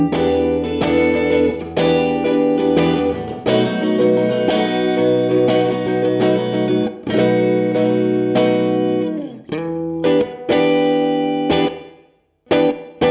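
Electric guitar playing strummed chords and notes through a hall reverb effect, with a lush, spacious reverb tail that lingers after each hit.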